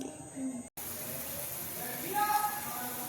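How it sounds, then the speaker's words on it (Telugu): Water heats to a boil in a pot on a stove, a faint steady bubbling hiss close by that swells slightly toward the end, with a brief dropout near the start. "ఇదిగోండి, వాటర్ మరుగుతూ ఉంది."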